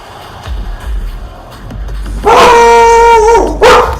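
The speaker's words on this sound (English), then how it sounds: "The dogs are going crazy." Dogs in a home barking and yelping in a sudden burst, a few sharp harmonic cries followed by a longer drawn-out whine, close and loud over quiet room noise.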